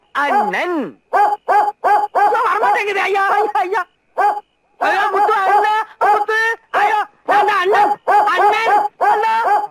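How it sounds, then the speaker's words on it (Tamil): A dog called Muthu barks and howls in rapid, loud bursts close by, with yelping pitch sweeps and short pauses between volleys. "நம்ம நாய் முத்து"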